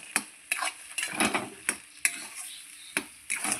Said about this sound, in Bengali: এই যে বন্ধুরা দেখেন কি সুন্দর করে আমার খানমান পাতা বাটাটা আমি কষাচ্ছি।